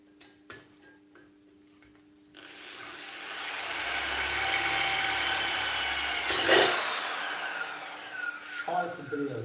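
A drill bores into the metal of a fuel tank for an oil burner, a sustained whining grind that rises in strength and lasts several seconds after a few quiet ticking knocks, then winds down into clatter.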